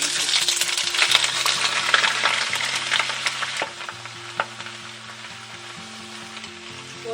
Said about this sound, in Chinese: 那现在我就要来炒菠菜了，放一点油，把这个蒜放进去爆香一下，把菠菜放进去，